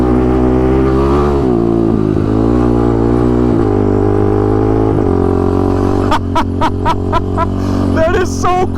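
An adaptive ATV built for amputee veterans runs close by, its engine droning and revving with pitch drops at each gear shift, followed by a series of sharp clicks near the end.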